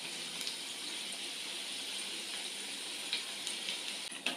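Onion bhaji batter fries in hot oil, giving a steady, soft hiss of sizzling with faint crackles throughout.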